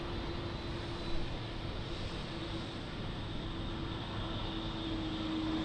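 Steady airplane engine roar at Lisbon Airport, with a broad, continuous whine and rumble holding fairly even and at a moderate distance for the whole stretch. No one talks over it.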